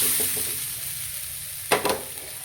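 Grated coconut from two coconuts roasts in a pan while being stirred, giving a soft, steady sizzle with a few quick scraping strokes of the spatula near the end, close and alone.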